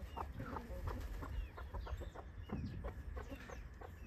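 Rooster, hens and two chicks on a farm clucking continuously, a dense overlapping stream of short calls and chirps close by with no talk.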